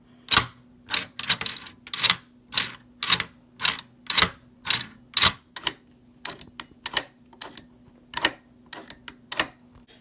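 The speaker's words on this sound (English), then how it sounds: "So you see with the first few millimeters of travel, the bolt rotates up to unlock." A Chiappa M1-9 rifle's rotating bolt being worked by hand, a quick series of sharp metallic clicks and clacks in an uneven rhythm, close and crisp over a faint steady hum, with no talk.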